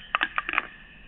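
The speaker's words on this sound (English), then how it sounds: "Oh, that is my phone." A phone gives a quick series of short electronic beeps and tones, about six bursts in under half a second, then stops, close and clear over a faint room hiss, with no talk.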